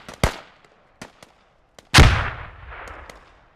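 Gunfire in a tactical shooter video game strikes a technical vehicle: sharp, isolated shots crack nearby, followed by a loud heavy blast with a rumbling decay.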